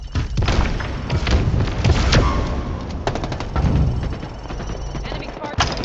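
Rockets firing and exploding in a multiplayer shooter game, a rapid series of heavy booming thuds and blasts layered with gunfire, with voices speaking over the action.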